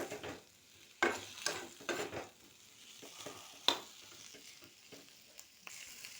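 Chicken with chicken masala frying in a pan, a soft steady sizzle broken by several sharp scraping stirs and clinks of the spatula against the pan, close up and with no talking.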